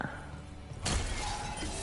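Objects shattering in the video game Dragon Age: The Veilguard, one sudden loud crash breaking over a quieter game background and trailing off into debris.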